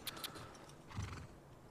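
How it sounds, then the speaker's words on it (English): A horse neighs and snorts in The Last of Us Part II, faint and somewhat distant, with a few soft hoof or tack clinks. "Uh-oh, horse?"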